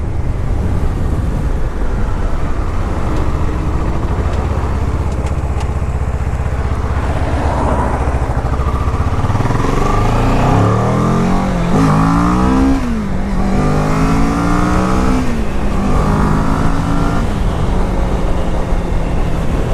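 A 2015 Kawasaki Ninja 650R motorcycle engine revs up through rising sweeps on a test ride, loud and close, with strong wind rush over the microphone and no talk.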